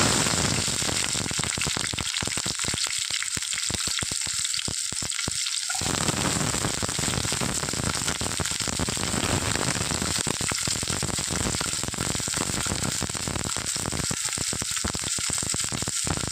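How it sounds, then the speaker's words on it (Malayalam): Green chillies frying in hot coconut oil in a pan, a loud continuous close sizzle and crackle with bursts of popping throughout. "ആ സമയത്തേക്ക് നമുക്ക് ഈ എടുത്തു വെച്ചിരിക്കുന്ന പച്ചമുളക് ചേർക്കാം."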